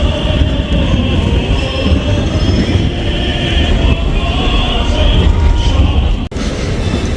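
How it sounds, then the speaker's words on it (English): Trams rolling along a city street in Gothenburg, a loud continuous rumble of wheels on rails with some squeal, heard close by in busy outdoor surroundings. "Trying to not get run over by trams that come from all angles here."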